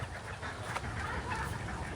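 A flock of chickens on a farm near ducks and water, clucking and calling continuously over a dense, noisy outdoor background, fairly faint with no clear individual calls standing out.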